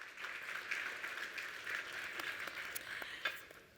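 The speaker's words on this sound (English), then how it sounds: "Let's give him a round of applause." An audience at a business forum session applauds in a large hall, steady dense clapping heard faintly and at a distance throughout.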